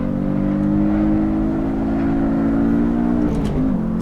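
A Porsche Cayman S engine in the Assetto Corsa racing game holds a steady, loud high-speed drone at around 140 mph, with a brief pitch shift near the end, continuous and with no talking.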